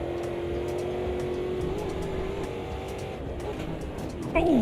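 A sim racing game's race car engine drones and climbs in pitch under throttle, steady and close, with a brief rising whine at the end.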